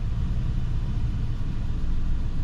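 A high-mileage Toyota Tundra engine idles roughly after a coil pack swap, a steady low uneven rumble heard up close and loud without talk.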